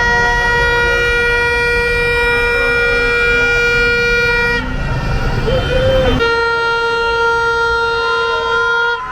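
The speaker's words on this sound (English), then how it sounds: "Even the kids got a vuvuzela." Vuvuzela horns blare at a crowded New Year's Eve street party in Kuala Lumpur, a loud, sustained buzzing drone held almost without break, dipping briefly in the middle before resuming amid traffic and crowd noise.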